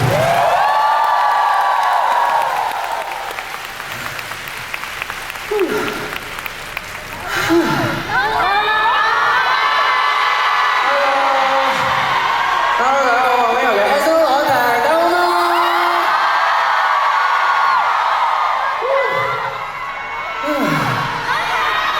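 A large audience at a live pop concert in Macau cheers and screams loudly and continuously, with shrill whoops rising and falling above the roar of the crowd.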